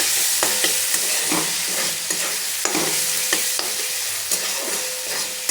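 Food frying in a pan with salt and turmeric powder gives a steady, loud sizzle, broken by regular scraping clicks from a spatula stirring it.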